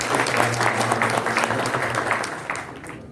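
An audience claps at a spring festival (Vasantotsav) concert of a university music and dance department, loud sustained applause that thins slightly toward the end, with a low hum beneath.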